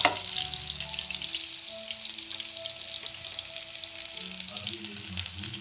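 Chopped onion sizzles steadily in hot oil with cumin seeds in a pan, a dense bright crackle that runs throughout, with faint low background hum and occasional soft clinks.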